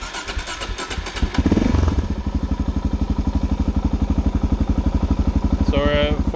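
A Suzuki DRZ400S supermoto cranks over and catches, then settles into a steady, loud thumping single-cylinder idle close by, with a brief rising blip near the end and a voice heard early on.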